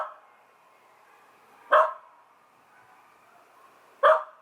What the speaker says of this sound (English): Not Ruby's barking.